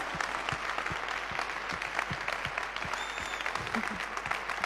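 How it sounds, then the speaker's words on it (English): An audience claps continuously, a steady patter of many hands from start to finish, with a brief faint whistle partway through. "So applause for Joanny Sanchez."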